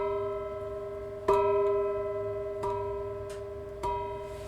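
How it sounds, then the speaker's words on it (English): A metal gong rings out four times at steady intervals, each strike a sharp attack followed by a long shimmering sustain that overlaps the next, fairly loud and alone with no talking. "Four gongs. That's 4 gongs."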